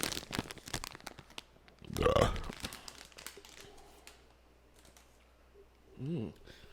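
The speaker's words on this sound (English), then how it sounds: "we start this off with the Israeli Bomba peanut butter puffs?" Crunchy crinkles and bites from Israeli Bamba peanut butter puffs, with a dense burst of crunching near the middle and a brief second burst toward the end, while people talk around them.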